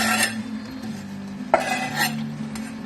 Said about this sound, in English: Give that a little stir in.